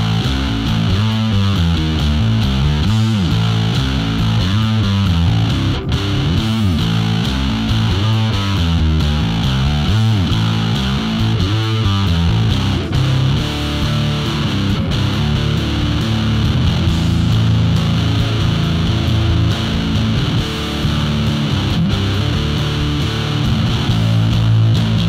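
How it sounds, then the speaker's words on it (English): Bass guitar played through a Zzombee analog fuzz multi-effect pedal, giving a thick, distorted, buzzing tone with wavering modulation and octave-like layers, a continuous riff of repeated notes heard loud and alone. "an analog multi-effect with all kinds of fuzzy, modulation, octave-y goodness that just sounds so insane"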